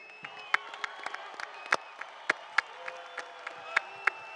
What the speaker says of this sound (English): give Turkey Al-Sheikh a hand and a round of applause